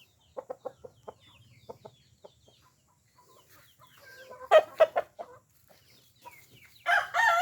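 Chickens cluck in short bursts nearby, a few soft clucks at first, then louder, busier clucking and squawks toward the end.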